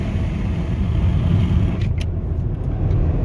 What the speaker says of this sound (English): I'm gonna go ahead and accelerate a little bit